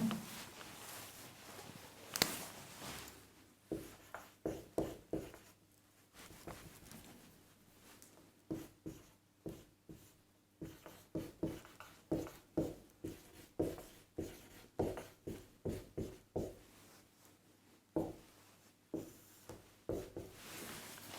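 A teacher writes on the board during a Class 12 physics lesson: quiet, rhythmic scratching strokes in quick clusters, repeating steadily with brief pauses between words.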